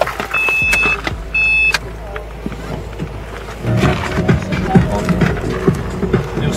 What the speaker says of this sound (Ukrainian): От зараз послухаємо, як вона заводиться.